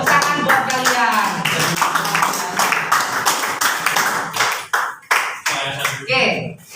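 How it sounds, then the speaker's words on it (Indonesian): Students in a classroom clap their hands in quick, close, loud bursts, the rhythm loosening into scattered separate claps toward the end, with voices mixed in. "Tepuk tangan buat kalian."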